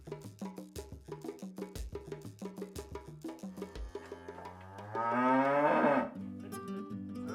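Dairy cows on a small farm moo repeatedly in a steady run of low calls, fairly close, with one longer, louder drawn-out moo near the end and no talk.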